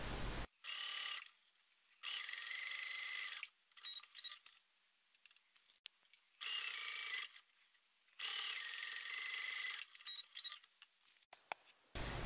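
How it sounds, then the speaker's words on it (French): Sewing machine stitching the eight corners of a fabric pencil case, 1 cm from the edge, running in several separate bursts of steady mechanical whirring with quiet pauses between them. "Piquer les 8 angles."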